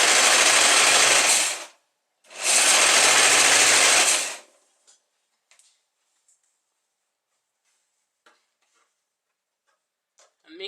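An LK150 knitting machine carriage sweeps across the bed in two loud, steady passes of about two seconds each, separated by a brief pause, followed by faint scattered clicks and ticks.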